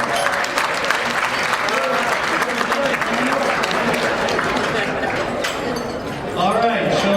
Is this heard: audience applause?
yes